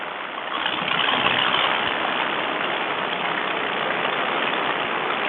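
Paramotor engine running at low throttle and not smoothly, a steady broadband engine roar with wind noise, loud and continuous without talk.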